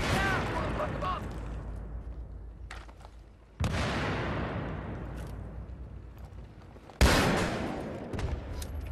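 Grenade explosions go off in the video game Battlefield 3 multiplayer Team Deathmatch on Talah Market, two loud booming blasts a few seconds apart, each trailing a long rumbling decay amid ongoing battle noise.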